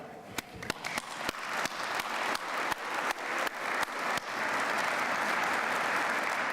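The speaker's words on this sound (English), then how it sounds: "That's worth a clap." Audience applause at a 2014 State of the County address, starting as scattered individual claps that quickly build into steady, moderately loud clapping from a room full of people.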